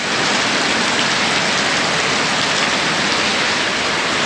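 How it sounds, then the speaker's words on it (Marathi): Heavy rain pours down steadily outside a hotel where a car is parked, a dense, loud, unbroken hiss of drops close by with no voices. "पाऊस बघा केवढा आहे, बेकारवाला पाऊस चालू आहे."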